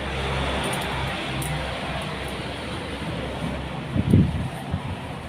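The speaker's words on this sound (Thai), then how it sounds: "โอ้ลม" Wind blows steadily across an outdoor microphone during a Thai DIY clothing-cutting session, a constant broadband rush with a brief louder low buffet near the end.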